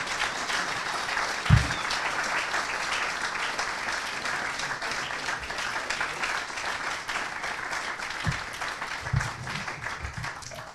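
Steady applause from a large audience at a political talk on money and media in elections, sustained dense clapping throughout with a few louder individual claps standing out.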